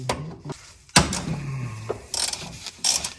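A ratchet loosens the 19 mm hex sump drain plug on a 1973 Porsche 911, giving a few sharp, close metallic clicks and knocks in short, irregular bursts with quiet gaps between.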